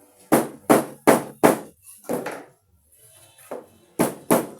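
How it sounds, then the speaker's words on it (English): A hammer knocks down folded bag material, giving a run of firm, dull thuds in quick succession, then a pause and a few softer and harder knocks, close and clear with no talk. "Once you fold it, you use your hammer to support it, and you keep knocking."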